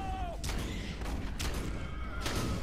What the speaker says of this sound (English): I will now use my shotgun.